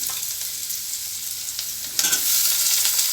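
Onions frying for channa masala with chopped tomato added partway, a steady bright sizzle with scraping stirs that grows louder and fuller after a sharp clatter around the two-second mark.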